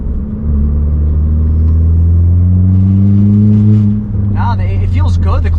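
A tuned Volkswagen MK7 GTI accelerates hard, its engine note climbing in a loud, close drone from inside the car before easing off, while a voice talks over the engine.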